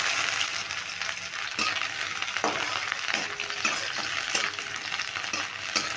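Chopped onion and garlic fry in oil, giving a steady, moderately loud hiss with soft stirring scrapes scattered through it and no voices.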